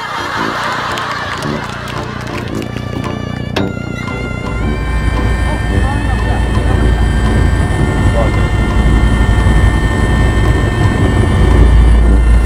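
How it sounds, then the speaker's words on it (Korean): A helicopter approaches outdoors, its loud, steady rotor and engine roar building and thickening over the whole stretch, with scattered voices and background noise underneath. "헬리콥터 오고 있어!"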